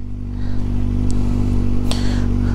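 Kawasaki ZX-6R or ZX-25R KRT edition 2021 sport bike idling with a steady, strong low engine drone close by, plus a couple of brief metallic clicks in the background.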